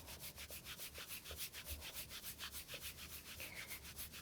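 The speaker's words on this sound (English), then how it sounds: "You want to add a decent amount of pressure as you're rubbing the outside of the knee." Hands rubbing firmly over the outside of a knee during a yoga therapy session, a steady close-up swishing friction in a regular back-and-forth rhythm.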